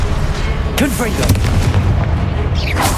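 A Confringo spell blast from Hogwarts Legacy, with sharp booming bursts and whooshing magic over a low rumble, close and loud, mixed with a shouted incantation.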